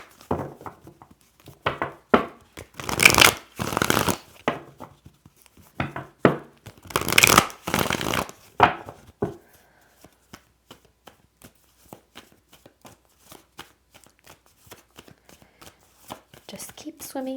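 Tarot cards are shuffled by hand in a run of crisp riffling and papery flicks, with two louder bursts early on, then quieter scattered taps and slides as the deck settles.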